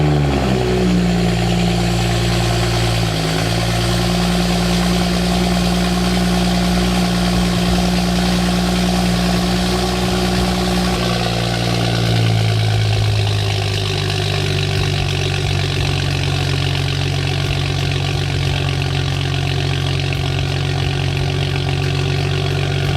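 A BMW N55 engine with a 3.5-inch catless downpipe idles steadily, close and loud, with a deep continuous rumble and a brief rev near the start before settling into a smooth idle.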